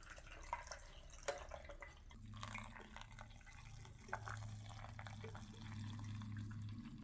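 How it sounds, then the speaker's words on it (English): Faint pour of cilantro, mint and ginger juice through a sifter, soft trickling and dripping liquid under a low hum, with a few small knocks near the start. "So we're just going to put this on a sifter and then just go ahead and pour this."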